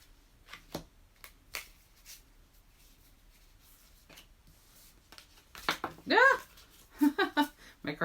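Story prompt cards being shuffled and spilling, a few sparse soft flicks and taps early on, then a burst of riffling and slapping cards near the end, with a brief voice cutting in.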